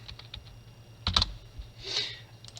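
Computer keyboard typing while spelling out a database normalisation term, with scattered key clicks and a brief denser burst of keystrokes midway, close and fairly quiet.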